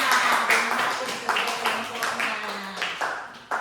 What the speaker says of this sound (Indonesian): kita beri tepuk tangan kelompok dua